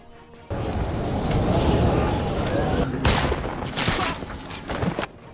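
Gunfire rings out in a war film scene of an Iraqi sniper attacking American troops, with a dense, loud burst of shots followed by further sharp volleys and cracks.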